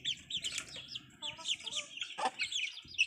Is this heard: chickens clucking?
yes